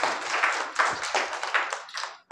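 Children clap together in a classroom, a brisk run of uneven, overlapping claps over about two seconds, fairly close and alone without talk.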